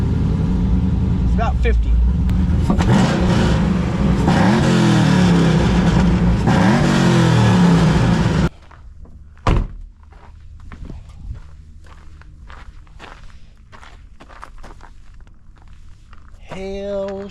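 A freshly rebuilt Camaro SS V8, just fitted with new lifters and camshaft, idles loudly and revs for about eight seconds, then cuts off. Someone speaks briefly over the quieter clicks and shuffling that follow.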